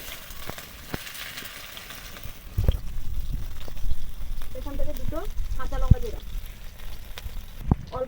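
Small mola carplet fish fry in hot oil until reddish, giving a steady crackling sizzle with a few sharp pops, and a voice briefly rises above it midway.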